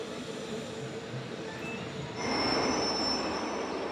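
A Bernina Express train rolls along open Alpine track on a full 360-degree curve, its wheels squealing with a high sustained tone over a steady rumble that grows louder midway, with no voices.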